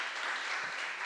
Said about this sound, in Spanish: ¿No se merece un aplauso el Señor por esto?